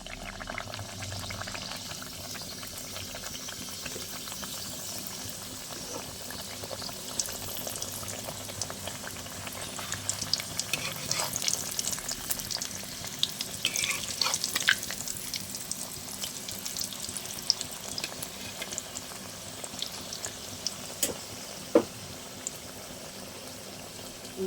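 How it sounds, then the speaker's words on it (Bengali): Nimki, crispy flour snacks, deep-frying in hot oil in a kadai over a gas flame, giving a steady, dense bubbling hiss that runs unbroken throughout with faint clinks now and then. "আমি কড়াইতে তেল দিয়ে দিয়েছি, তেলটা গরম হয়ে গেছে। এবার আমি একটা একটা করে নিমকিগুলোকে দিয়ে দেবো।"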